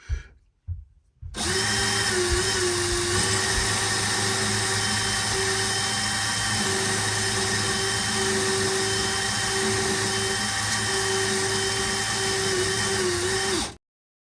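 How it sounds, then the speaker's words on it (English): Duraco power case trimmer trimming brass cartridge cases, a loud, steady motor whine running nearly continuously for about twelve seconds before cutting off, with brief handling noises at the start. "At this stage, I'm still using the case trimmer from Duraco."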